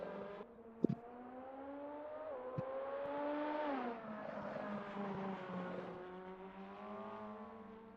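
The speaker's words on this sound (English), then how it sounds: "Here comes the Mazda chasing after the Ferrari." A Mazda race car in a racing video game chases a Ferrari, its engine droning steadily with rising and falling pitch as it revs through gear changes, fairly quiet and without talk.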